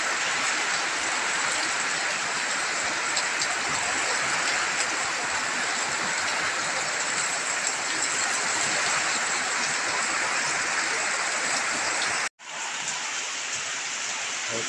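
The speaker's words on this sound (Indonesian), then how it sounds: "Ini anginnya, hujan disertai angin coy." Heavy morning downpour driven by strong wind in a village among coconut trees, a constant loud wash of rain that drops out for a split second near the end and then resumes, with no one speaking.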